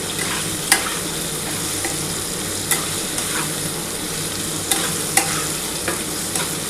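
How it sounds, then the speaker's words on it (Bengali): Potatoes with salt and turmeric fry in a pan for a vegetarian cabbage curry, a steady close sizzle running throughout while a utensil stirs and scrapes, with a few sharp clinks against the pan. "এবার ভালো করে নুন আর হলুদ দিয়ে আলুটা একটু ভাজা ভাজা করে নিচ্ছি।"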